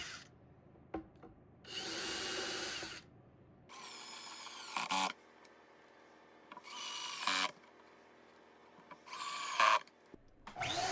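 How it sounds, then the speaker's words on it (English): Battery-powered miter saw cutting straps from steel bar in a workshop: several separate loud bursts of whining, grinding cutting, each lasting about a second, separated by quiet pauses with faint handling noise. "Here I'm cutting a couple of straps from some steel bar"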